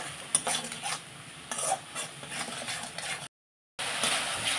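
Spice masala with hot chili powder frying in a pan, a steady sizzle broken by scraping stirs, with a brief silent gap before the frying resumes.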